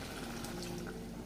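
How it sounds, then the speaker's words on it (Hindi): Water poured into a pot of Bihari-style mutton bhuna masala for boiling, a steady close trickling pour running continuously for about a second without pauses. "अब इसमें हमें थोड़ा और पानी डालकर इसे बॉईल करना है"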